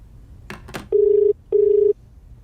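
A telephone rings twice in steady electronic bursts, each a sustained buzzing tone lasting under half a second, close and clear, after a couple of brief clicks.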